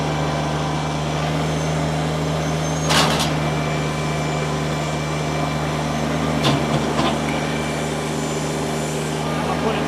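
A 2019 Kubota BX2380 compact tractor engine runs steadily in low range at a low, even drone, with a couple of brief clanks partway through.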